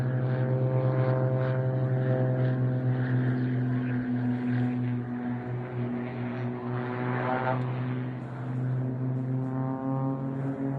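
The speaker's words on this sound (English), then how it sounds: "Now watch the middle two aircraft as they fly upwards, and then together fly backwards through their own smoke." Display aircraft at RAF Waddington Airshow 2013 drone overhead with a steady, loud propeller hum and strong tonal harmonics, sustained throughout with slight swells as they climb.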